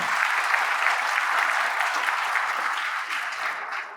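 An audience at an agricultural seed production unit inauguration gives a loud, dense round of applause, continuous clapping close and full throughout before easing slightly at the end.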